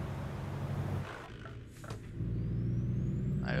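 An Iveco T-Way truck engine in Euro Truck Simulator 2 drones with a rough, damaged-sounding low rumble, steady and close, briefly easing off mid-clip before returning at full strength.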